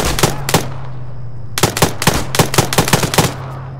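Accidental gunfire in the video game ArmA 3 cracks out loud and close: two quick shots, then a rapid burst of about eight rhythmic shots.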